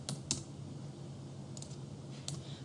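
Faint computer keyboard typing while entering statistics data, a few sparse clicks and key taps over a low steady hum.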